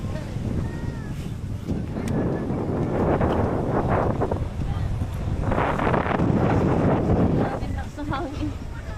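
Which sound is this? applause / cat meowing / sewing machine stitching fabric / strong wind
strong wind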